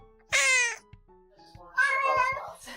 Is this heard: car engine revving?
no